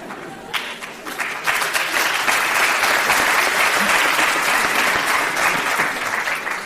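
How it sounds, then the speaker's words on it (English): Women in a lecture audience break into sustained, dense clapping that starts abruptly and holds steady, loud and close, filling the room without voices. "Look who's clapping. The ladies."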